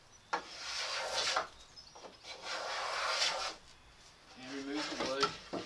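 A Stanley 110 block plane shaves glue squeeze-out and wood from a toy box in several close, rasping strokes with brief pauses between them, and a voice comes in near the end.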